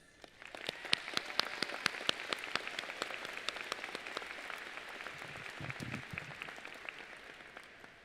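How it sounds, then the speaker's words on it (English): An audience at a Canyon Lake High School graduation ceremony claps for the school board trustees, a full, even patter of many hands that swells in and tapers off slowly at the end. "Please join me in a round of applause for all of your school board trustees."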